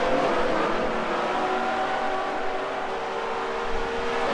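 A race car engine in a Second Life dirt-track race drones loud and steady at high revs, its pitch wavering slightly as the car drives on with no talk over it.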